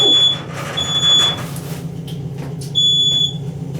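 A shrill smoke alarm chirps in three piercing beeps spaced apart, close by, near a gas water heater with a water leak above it, with some low rumbling and faint room noise between.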